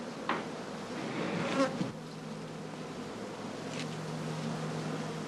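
Bees buzz around skeps in an apiary, making a steady drone with a louder pass of a nearby insect early on and a faint background hum throughout.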